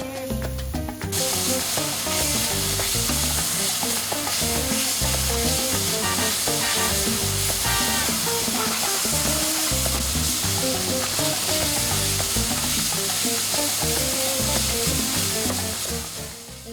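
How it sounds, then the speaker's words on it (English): Pork with garlic and chili paste is stir-fried in a hot pan, a loud, dense sizzle with constant scraping and tossing that runs steadily throughout, close up and without speech. "Toss and stir-fry them all together."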